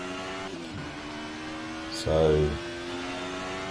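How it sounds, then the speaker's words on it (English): A screaming V6 race car engine in the Assetto Corsa racing game at Autodromo di Modena holds a steady, tonal drone throughout, while someone briefly speaks over it. "A screaming V6."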